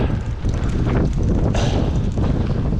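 Strong wind buffets the microphone of a cyclist riding in cold Welsh hills near Cwmrheidol, a loud continuous rumbling roar with gusty swells throughout.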